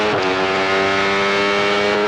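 A Benelli 350cc racing motorcycle at the 1993 Manx GP revs hard from an on-board position, its engine note loud, steady and high-pitched throughout, with no talking.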